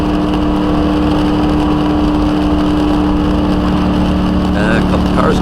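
NASCAR race car engine during hot laps at Michigan International Speedway, a loud steady in-car drone with a constant tone and heavy rumble, close and unbroken.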